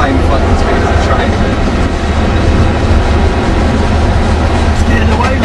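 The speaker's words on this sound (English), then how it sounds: "We're at the same fucking speed as the train." A train running alongside on the rails, heard as a loud, continuous rumbling roar with faint rhythmic clatter, close by and unbroken throughout.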